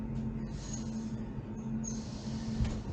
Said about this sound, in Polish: już, już ruszył pociąg